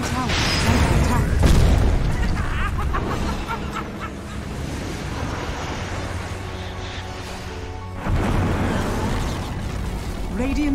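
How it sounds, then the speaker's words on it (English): In a Dota 2 match, the Radiant middle tower collapses with a loud booming burst at the start, followed by a rumbling battle din and a second crashing impact later. "Radiant's middle tower has fallen."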